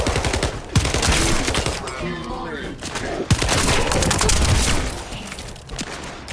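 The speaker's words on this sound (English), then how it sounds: "The hand cannon sounds satisfying. It sounds powerful." In the game The First Descendant, a hand cannon fires in heavy, punchy booms amid dense, continuous gunfire and explosions. Someone talks over the shooting.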